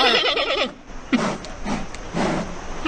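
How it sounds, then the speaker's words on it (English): A panda calling: a run of harmonic bleating cries up front, then three breathy, noisy bursts spaced about half a second apart, close and fairly loud. "That's how a panda sounds?"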